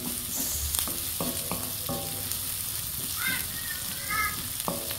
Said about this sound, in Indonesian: Aduk-aduk sampai wangi ya palawargi